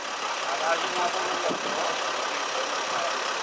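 Free spa shuttle bus in Krynica-Zdrój, its engine idling with a steady, continuous mid-range drone, fairly close and unbroken for the whole stretch.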